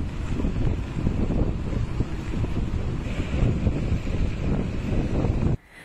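Strong storm wind gusts across the Sakarya River coast during flooding, a steady loud roaring rush with buffeting on the microphone, then cutting off sharply just before the end.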